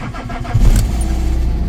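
A car engine cranks briefly and catches, settling into a loud, steady running rumble close by.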